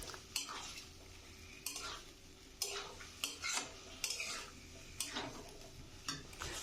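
Marinated mutton stir-fried in a pan for a mutton curry, with repeated sharp scrapes and clinks of a utensil against the pan at irregular intervals over a faint sizzle, close and fairly quiet.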